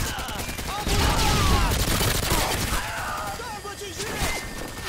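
Automatic gunfire from the Modern Warfare 2 video game, steady rapid shots rattling close and loud throughout, mixed with game noise and occasional voices.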